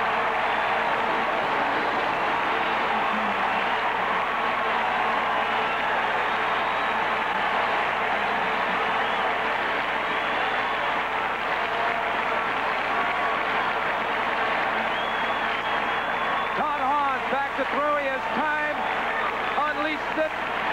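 A stadium crowd roars and cheers after a touchdown at the 1983 Fiesta Bowl between Arizona State and Oklahoma, a loud sustained wash of noise with an announcer talking over it.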